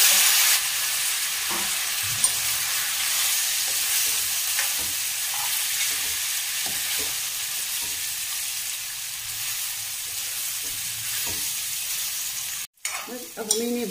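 Chana dal and wheat flour mixture roasting in a pan with cumin and turmeric, a loud continuous sizzle with soft stirring taps scattered through it, then a brief sharp break and clatter near the end.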